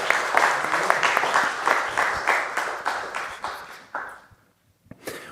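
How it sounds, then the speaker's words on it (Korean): During a Korean Sunday church service, the congregation bursts into loud, close applause that gradually thins and fades out. A short isolated clap or tap follows after a brief quiet. "오늘도 좋은 날을 우리에게 주신 하나님께 기쁨과 감사의 영광의 박수 올리겠습니다"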